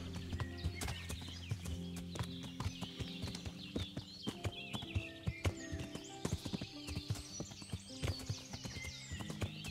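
Horse hooves clip-clop in a quick, uneven rhythm in the video game Kingdom Come: Deliverance, over a steady musical drone, with a horse whinnying briefly.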